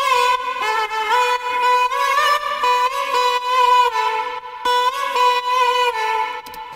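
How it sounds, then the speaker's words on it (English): A sustained, pitched vocal sample sings a smooth melodic line over a steady electronic backing, with rich harmonics and no gaps. "quite a significant sound on the track is the vocal sample that sounds like this"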